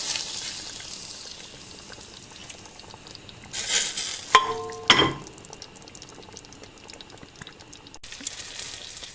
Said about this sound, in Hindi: इसमें हमने कश्मीरी मिर्च का तड़का लगा दिया